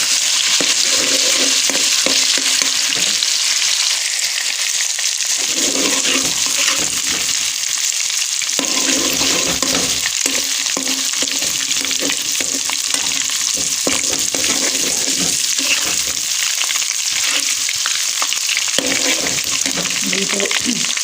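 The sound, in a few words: garlic ginger paste frying in oil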